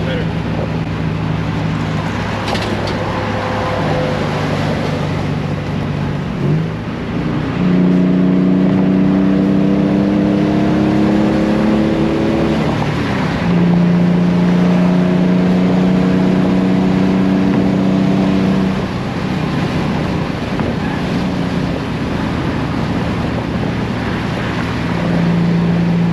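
A 500HP S15 car's engine and exhaust while driving, heard from inside as a steady drone that rises in pitch through repeated accelerations and gear changes, with talking over it.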